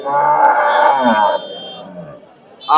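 A Sahiwal cow lets out a loud, long, low moo close by at a cattle market, followed by quieter background noise.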